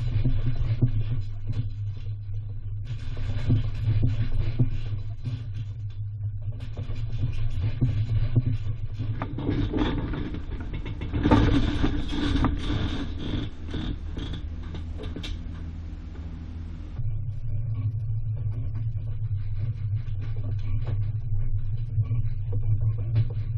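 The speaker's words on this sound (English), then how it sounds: "we set up some cameras inside of our fifth wheel here and then took it for a ride" Inside a fifth wheel trailer towed on the road on Roadmaster Comfort Ride shocks, a continuous low road rumble carries soft creaks and rattles of the fittings, with a rougher, louder stretch midway.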